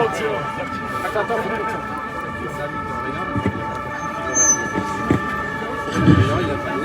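Sirens of vehicles escorting a street demonstration wail in sustained tones, fairly distant and steady, while people talk nearby and occasional thumps sound.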